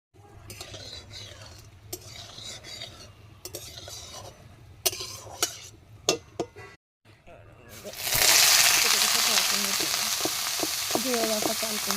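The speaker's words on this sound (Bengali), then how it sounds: "এবার শুকনো লঙ্কা দিয়ে দেবো ওর মধ্যে" Dried red chillies hit hot oil in a wok (kadai), bursting into a loud, steady sizzle that fills the second half, after earlier clatter of utensils and brief stirring sounds.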